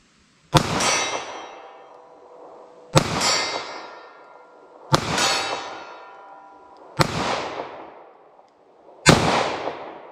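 A 9mm revolver fires Hornady Critical Defense rounds outdoors, five sharp, loud shots spaced about two seconds apart, each followed by a short decaying ring.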